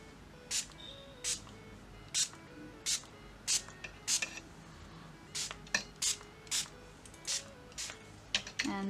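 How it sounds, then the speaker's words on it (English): A spray bottle pumped repeatedly over a watercolor painting, about fifteen quick close-up spritzes in an uneven rhythm with short pauses between them. "Then this is my favorite spray."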